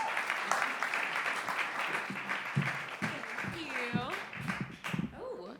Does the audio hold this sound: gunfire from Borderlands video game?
no